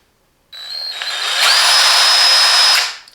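A Hychika cordless impact wrench with variable speed up to 2000 RPM spins up and runs alone for about two and a half seconds, a loud steady whine that rises in pitch as it reaches full speed, then cuts off.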